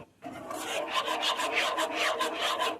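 A whisk stirs homemade enchilada sauce in a pan, making repeated close scraping and swishing strokes in a quick, even rhythm, with no voices.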